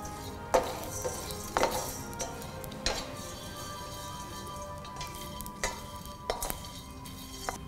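Ingredients browning in a pan, with a soft sizzle beneath intermittent sharp clinks and scrapes of a utensil against the metal, several spaced knocks close by and no voices.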